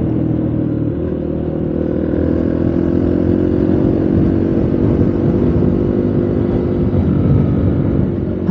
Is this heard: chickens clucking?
no